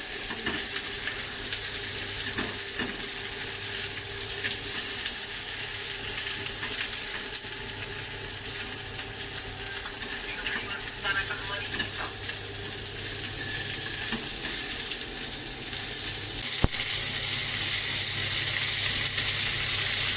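Prawns (kolambi) sauté in oil on a hot tawa, a steady hissing sizzle holding evenly throughout with faint occasional stirring, close and moderately loud, no talk.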